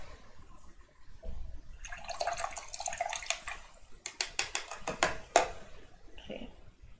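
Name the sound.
washing a paintbrush in water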